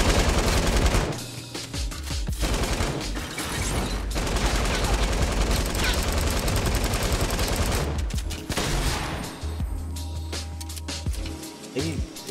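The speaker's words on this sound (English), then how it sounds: "It sounded like multiple people shot at me with that." Dense Fortnite gunfire from several players at once, rapid overlapping shots and bursts firing nearly nonstop, loud and close, with brief lulls between volleys.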